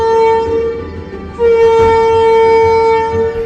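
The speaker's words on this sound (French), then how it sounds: "En attendant le son de la corne de brume" A deep, steady ship's foghorn blast at sea, loud and sustained, briefly dipping before resuming as one long continuous tone; departure signal of a patrol vessel.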